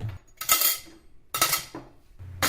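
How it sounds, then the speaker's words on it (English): Plates scrubbed and clattering in murky dishwater at a restaurant sink, with bursts of scraping, clinking and sloshing in three separate strokes, close and fairly loud, no voices. "grab one of the plates out of the murky water and start scrubbing"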